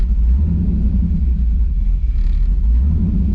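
A swapped LSX V8 in a G35 idles in a heavy, steady low rumble, close and loud, settling after startup with no talk over it.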